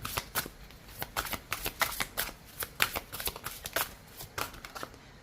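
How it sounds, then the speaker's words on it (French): Oracle cards being shuffled by hand during a tarot-style reading; a steady series of crisp, close riffling and slapping bursts with short pauses between them, and no talk. "On commence par l'oracle de Marie, Mère universelle"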